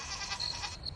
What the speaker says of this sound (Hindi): इस बकरी को क्या हो गया जो इतनी रात को शोर मचा रही है?